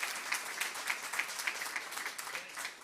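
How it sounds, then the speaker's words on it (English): An audience applauds, a dense patter of clapping that stays fairly even for a few seconds. "just another round of applause"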